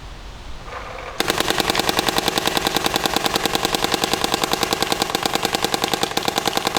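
A Dye DLS paintball marker with a V2 bolt fires in a rapid, even stream of loud sharp cracks with a metallic edge, following a second of quieter mechanical hum.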